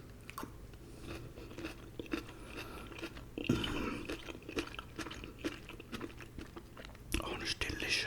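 Someone bites and chews a stuffed pepper filled with rice and cheese, giving close, crisp crunches and wet mastication noises at intervals, with soft whispered talk over the eating.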